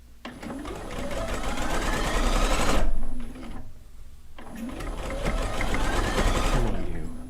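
A sewing machine stitches a quilt top in a steady, fast, close mechanical chatter, runs for about three seconds, pauses briefly, then resumes at the same pace.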